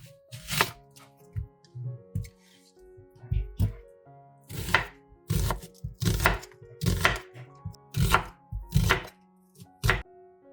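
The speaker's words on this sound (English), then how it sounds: "Cut an onion." A knife chops an onion on a cutting board for a tomato marinade, landing in sharp, uneven thunks: a few at first, then a steady run of close, loud cuts with short pauses between them.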